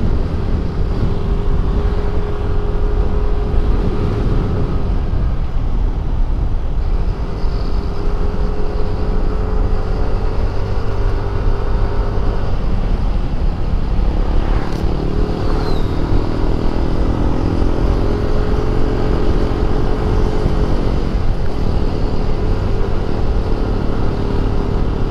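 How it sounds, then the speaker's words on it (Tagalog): Loud, continuous roar of strong wind buffeting close by on Marilaque highway, steady and broadband, with a brief gusty swell midway and no voices. "Lakas ng hangin."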